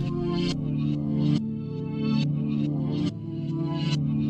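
Two layers of a reversed melody, one at the original pitch and one an octave lower, play together for a beat, with backward swelling notes that end abruptly in a steady, full loop.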